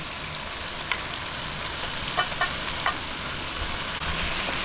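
Pork sautéing with soft tomatoes in a pan, a steady, even sizzle of frying with a few soft clicks of stirring, moderately loud and close, no talking.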